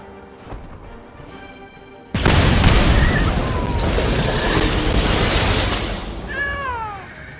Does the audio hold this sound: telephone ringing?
no